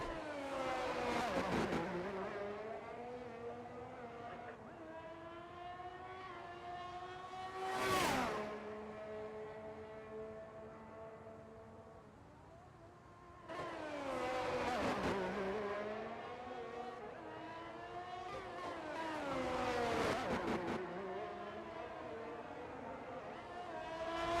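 Race cars circle the Baku street circuit on a qualifying lap in an Azerbaijan GP racing video game, with engines rising and falling through gear changes, one car sweeping past loudly around the middle.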